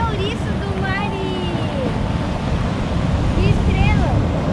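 Pacific Ocean waves washing onto a rocky shore, a steady broad roar with wind buffeting the microphone, while a few high bird calls sound faintly over the surf.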